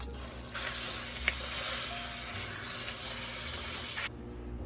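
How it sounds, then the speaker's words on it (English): Chicken fries in hot bacon grease with a steady, bright sizzle and crackle that holds evenly for several seconds before cutting off sharply near the end. "I use bacon grease even when I'm just frying regular chicken"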